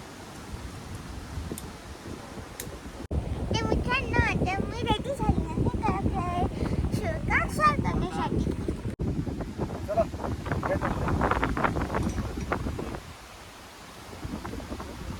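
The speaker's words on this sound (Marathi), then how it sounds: "वाऱ्याचा जोर कायमच आहे" Strong wind roars and buffets the microphone in sustained gusts at the Kalakrai pinnacle, loud and close, easing toward the end.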